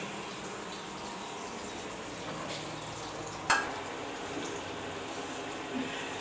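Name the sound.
frying bitter gourd with potato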